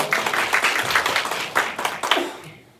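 An audience applauds at the 2022 Gyeonggi-do public-private governance forum: a few seconds of brisk, fairly close clapping with uneven peaks that trails off at the end.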